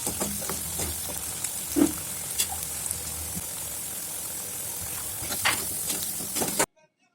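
Potato pieces tossed with turmeric and salt sizzle in oil, giving a moderate steady frying hiss with occasional clinks and stirring knocks before it cuts off abruptly near the end.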